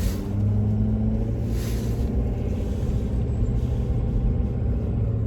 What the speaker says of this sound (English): getting ready to go across the train tracks